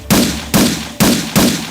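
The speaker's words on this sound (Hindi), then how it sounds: "उसने मसोलिनी की लाश पर एक एक करके 5 गोलियां दाग दी" Four loud, sharp gunshots fired one at a time at roughly half-second intervals, each a sudden broadband crack with a short decaying tail, a dramatized effect for a woman firing five bullets into Mussolini's corpse.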